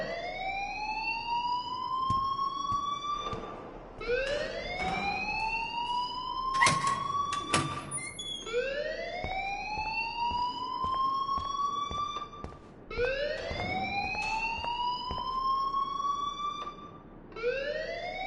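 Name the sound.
school fire alarm ringing in video game Life is Strange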